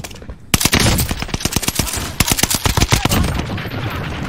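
Rapid bursts of automatic gunfire in a shooter video game, loud and close, starting abruptly then crackling in uneven volleys with a short lull before more shots.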